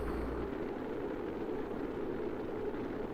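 Steady broadband roar of a spacecraft heating up during atmospheric re-entry in the video game Kerbal Space Program, continuous and loud throughout with no voices.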